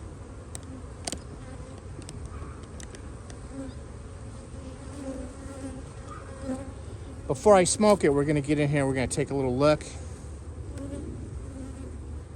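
Honey bees buzz in a spring hive box, a low hum under a man's speech, with a few bees flying close past in louder, wavering buzzes near the middle.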